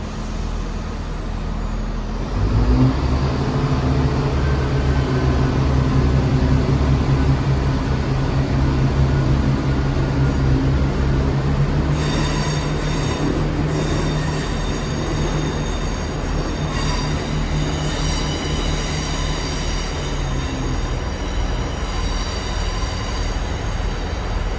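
The 07:39 ScotRail service pulls out of Dundee bound for Glasgow Queen Street, a loud, continuous rumble of wheels on rail with a squealing, whining tone rising midway as the train moves off.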